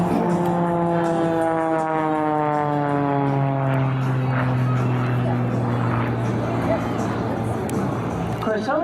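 An aerobatic airplane sweeps past inverted at the 2017 Prescott, Arizona airshow. Its loud engine and propeller drone falls steadily in pitch as it passes, over a continuous murmur of the crowd.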